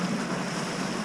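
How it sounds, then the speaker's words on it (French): A sailboat sails close-hauled upwind, reefed in the mainsail and genoa, under sail alone with the engine off. Waves wash and slosh steadily against the hull beneath constant wind roar across the microphone. "Là on navigue contre le vent aujourd'hui"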